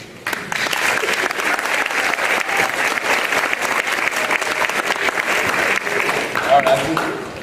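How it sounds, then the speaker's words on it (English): Sustained audience applause for candidates at a 2022 election event, a dense, steady wash of clapping lasting several seconds at even loudness. "I would like to have one big round of applause for all the candidates today"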